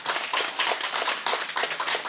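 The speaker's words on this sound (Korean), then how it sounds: "박수 한번 쳐주시겠습니다" A church congregation claps at a Sunday service, a steady, even wash of many hands applauding together, fairly close and sustained without any voices standing out.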